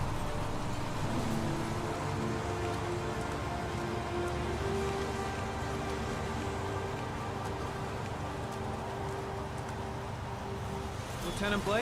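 Rain in the video game Heavy Rain makes a steady hiss that fills the whole scene at moderate volume. A faint voice-like tone runs underneath at times, and a brief sharper burst comes at the very end.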